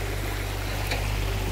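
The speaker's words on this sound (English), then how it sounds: "The water's flowing quite" River water at Wang Chao National Park in Thailand rushes in a constant, even wash, near and moderately loud, with no speech present.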